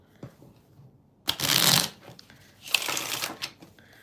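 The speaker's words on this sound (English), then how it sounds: "Let me just shuffle." A deck of tarot cards is shuffled in two quick bursts of crisp riffling, close and fairly loud, with quiet gaps before and between them.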